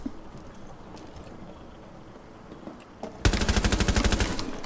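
A sudden burst of rapid automatic gunfire sprays in Rainbow Six Siege, loud, sharp evenly spaced shots that erupt after a quieter stretch of faint game ambience and distant pops, then run on to the end.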